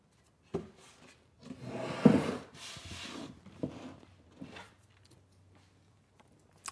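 Short bursts of sanding rasp against a wooden drawer bottom to remove glue, close and uneven, several strokes with pauses, fading out toward the end.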